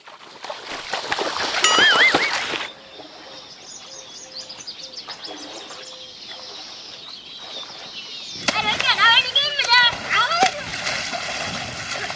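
Water splashes loudly in bursts at the start and again near the end, with a quieter stretch between carrying faint bird chirps, while people shout and talk over it.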